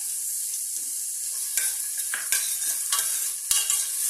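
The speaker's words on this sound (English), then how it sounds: "Saute well." Chopped onion sautéing in ghee over a medium flame, a steady close sizzle with several scraping stirs of a spoon against the pan, no voices.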